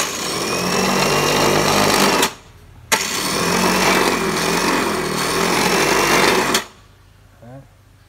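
A Toshiba CQ20 meat and fish grinder, rated at 120 W, hums with a steady motor drone for about two seconds, cuts out briefly, then runs again before stopping.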